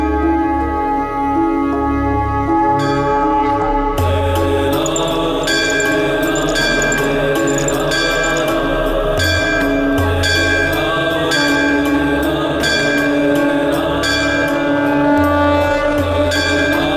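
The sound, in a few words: temple bell ringing loudly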